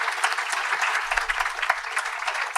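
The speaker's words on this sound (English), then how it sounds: "Let's give her a round of applause" Audience applause at a Ganesh Utsav festival night, a steady dense patter of many hands clapping throughout, fairly close and sustained without pause.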